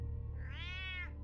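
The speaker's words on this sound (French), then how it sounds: "C'est mon chat." A cat meows once in a Telltale Batman episode, a single drawn-out, rising and falling meow heard clearly over a low steady background hum, with no voices.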